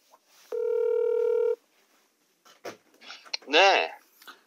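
A telephone dialing tone sounds for about a second, followed by a few short clicks and scratches and then a brief burst of nearby speech.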